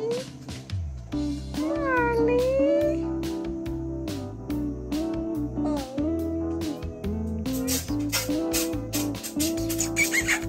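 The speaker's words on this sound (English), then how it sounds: "And here's the Marley being a cutie cat." A pet cat gives several close, drawn-out meows with rising and falling pitch, mixed with background music and brief clattering noises.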